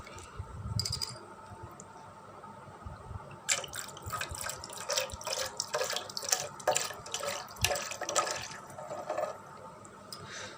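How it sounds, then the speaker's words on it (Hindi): 7 Up soda poured into a homemade lemon drink with ice, a moderately close fizzing, splashing stream with clinking ice and bubbly crackle that comes in irregular bursts, alone without talk. "आपने फिर 7 अप, स्प्राइट या कोई भी बोतल, लेमन अप कोई भी मिल जाए आपको, तो आपने इसमें डालनी है।"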